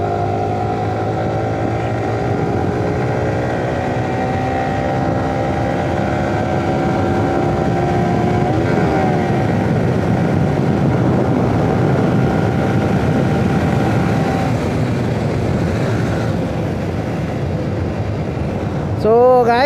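Motorcycle engines rev and pull away on a Sunday group ride, a steady loud drone with rising engine tones that swell mid-clip, alone without talk until a brief sharp sound at the end.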